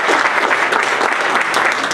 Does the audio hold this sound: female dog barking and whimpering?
no